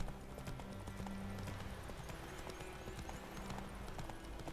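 Horse hooves clip-clopping at a steady pace while riding in the video game The Witcher 3, accompanied by game music and ambient sound.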